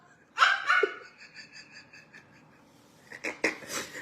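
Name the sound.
dog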